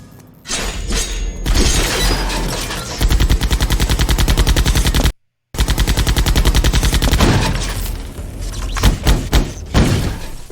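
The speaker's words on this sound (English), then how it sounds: "the main thing that stuck out to me here was all the electricity sounds" Stock electricity sound effects of the kind used across film and TV: harsh, buzzing crackles and rapid zapping pulses that fire in loud sustained bursts, cut by a brief silence, then return with sharper snapping bursts.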